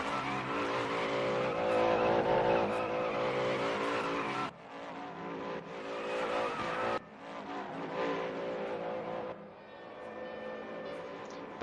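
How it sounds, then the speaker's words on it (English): In the RaceRoom DTM 1992 racing game at Norisring, a race car spins donuts in the pits, its engine roaring loudly with long squealing tires in several abrupt segments. "We've got Jamie Dory doing donuts in the pits as well."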